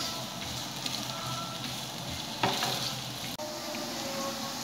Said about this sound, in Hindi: अब इसमें ये गाजर डालूंगी। और हमने इसे ना इतनी देर सौते करना है